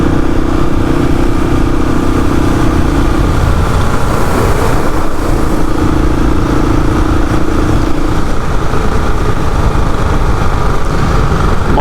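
A Royal Enfield Classic 500 motorcycle cruising on a freeway, its steady engine drone mixed with heavy wind buffeting, loud and continuous from the rider's position.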